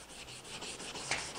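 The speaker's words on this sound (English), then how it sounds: "I've got some 400 grit sandpaper. I'm just going to go over this edge real quick to make sure there's no sharp corners or sharp edges on it" A wooden edge is hand sanded with 400 grit sandpaper in short, quiet, close rubbing strokes, with no voices.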